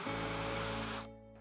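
A power drill runs at full speed as the bit bores into a wooden workpiece, a loud steady whine for about a second before it winds down and stops.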